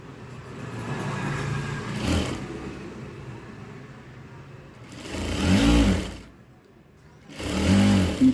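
A sewing machine stitches lining into a blouse, its motor whirring in bursts with a short run early, then two louder spells of stitching separated by a pause.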